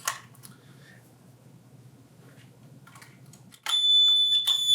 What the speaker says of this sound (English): you're going to hear that beep